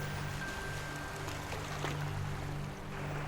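Gentle sea surf washing onto a sandy beach as an audio drama effect, a steady soft wash of water with faint trickling, continuous and unhurried with no voices.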